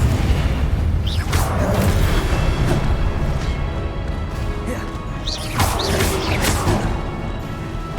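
Confringo blasting spell explosions in the video game Hogwarts Legacy, loud crashing booms and bursts over a dense, continuous game mix with several impacts spread across the stretch.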